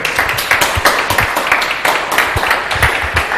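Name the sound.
audience applause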